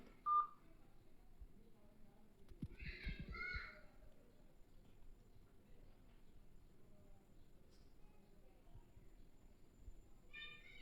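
Phone keypad tones as a call is dialled again, a short burst of beeping digits in a quiet room with faint background rustle, a couple of soft tone clusters spaced seconds apart.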